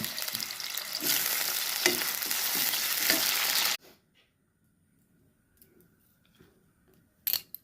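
Potatoes go into hot oil and fry with a loud, dense sizzle for several seconds, then it cuts off, leaving near silence with faint small clicks and a final brief burst of noise.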